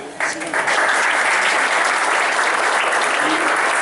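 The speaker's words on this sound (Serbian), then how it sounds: "još jednom aplauzom da pozdravimo Aleksandra Đorđevića" An audience in a hall applauds at a ceremony marking 25 years since Partizan basketball club's European title, with sustained, loud, dense clapping starting sharply and continuing evenly throughout.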